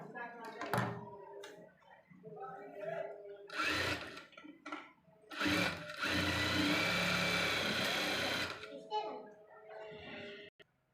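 A sewing machine stitches the back dart of a blouse in short bursts of rapid mechanical whirring, the longest run lasting a few seconds, with someone talking between and around the stitching.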